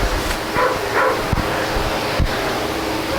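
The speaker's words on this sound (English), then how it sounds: "That and my dog barking his head off." A dog barks a few times at a distance behind the loud, steady hiss of outdoor noise during a door hinge installation, the barks faint and partly masked.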